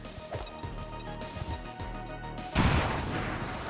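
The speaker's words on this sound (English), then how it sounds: "Grenade out." A grenade explodes in the video game XCOM 2 with a sudden loud, close blast that gives way to a rumbling, crackling tail. Rhythmic game music and thuds play beforehand.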